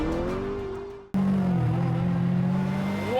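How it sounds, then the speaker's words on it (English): A McLaren drifts as its engine revs hard: a rising engine note cuts out abruptly, then bursts back loud and strained with a sustained howl and tire noise as the car slides. "And yes, you can now drift a McLaren."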